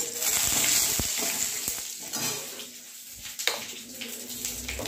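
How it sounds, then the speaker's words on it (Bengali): Cumin seeds, bay leaf and dried red chilies hit smoking-hot oil for a zucchini and pea curry, giving a steady close sizzle and crackle with a few sharper pops and no talking. "তেল দিলাম, এই জিরে ফোড়ন দিলাম, আর এই তেজপাতা আর শুকনো লঙ্কা ফোড়ন দিলাম"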